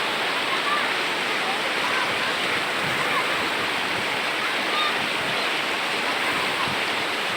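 A strong current of rushing water roars steadily and loudly, a dense, unbroken wash of sound close by that fills the whole stretch with no pauses.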